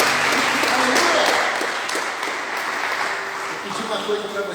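A church congregation applauds loudly during a Sunday service, a dense, continuous roar of clapping that stays strong and gradually eases slightly, with voices mixed underneath.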